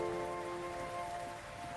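Steady rain patters at night in a soft, continuous wash, with a faint sustained tonal hum running underneath and no voices.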